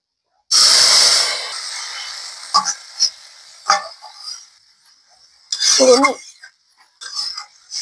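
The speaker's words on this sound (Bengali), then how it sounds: "এখন আমি শুক্তোটা ঢেলে দিয়ে দেব" Shukto vegetables tipped into a pan of hot mustard tempering set off a sudden loud sizzling hiss that fades over a second or two, followed by scattered close utensil clinks and a second brief burst of frying noise.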